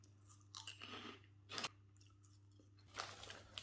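Someone chews crunchy Golden Wonder Ringos Spicy Thai crisps up close, with a few faint crunching bites over a low, steady hum.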